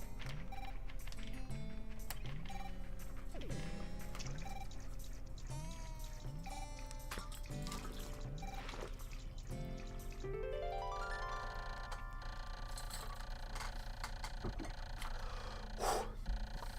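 Pikmin game audio with in-game water sounds under a steady musical score, with gentle bubbling and pouring tones, some bright splash-like notes near the end, and a continuous, moderate level throughout.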